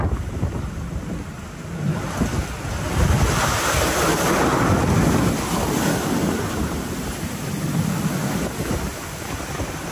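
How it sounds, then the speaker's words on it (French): Huge ocean waves in the Drake Passage make a continuous heavy roar of surf and rushing water with wind buffeting the microphone, loud and steady throughout. "Les vagues dans cette zone peuvent atteindre 20 à 30 mètres"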